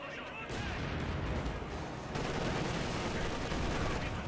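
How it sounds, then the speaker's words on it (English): An MG42 machine gun firing in the Company of Heroes 2 strategy game, a dense, continuous roar of gunfire and battle noise lasting throughout, with a commentator talking over it. "MG42 firing away"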